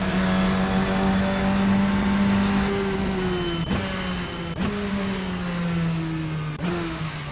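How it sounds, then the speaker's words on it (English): A Radical SR10 XXR race car engine in a racing video game on a tight street circuit, loud and close, holding a high steady drone, then dropping in pitch with several sharp gear-change cuts as it revs on. "Drive the Radical SR10 XXR"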